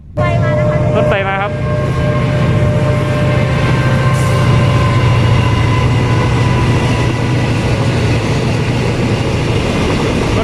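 A freight train rumbles past close by, a steady loud roar of wagons with a low drone and a brief horn-like tone near the start.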